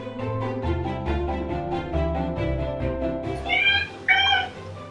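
A pet cat meows twice near the end, close and clear, over music and background sound during an indoor makeup session.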